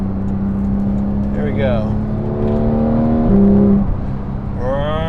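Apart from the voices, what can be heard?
Porsche 911 GT3 991.2 engine revving and upshifting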